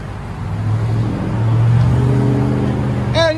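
A Dodge Charger Hellcat with its 6.2L HEMI V8 and aftermarket exhaust, a steady, loud, deep rumble that swells slightly midway, then a brief higher whir near the end.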